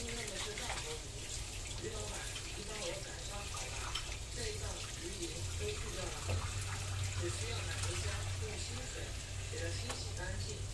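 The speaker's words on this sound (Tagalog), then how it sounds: "Lalagay na tayo ng tubig sa pan para sa ating soup." Water pours steadily into a hot frying pan for soup, giving a continuous hissing, sizzling wash at close range that lasts throughout, with speech faintly underneath.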